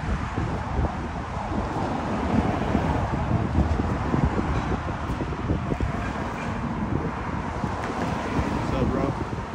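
Strong wind buffeting the microphone outdoors, a continuous loud rumbling roar with gusty swells throughout.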